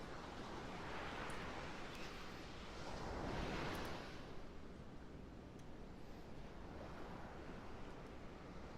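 Ocean surf rolls in a steady wash with a swelling wave crest partway through, soft and continuous with light wind, no voices.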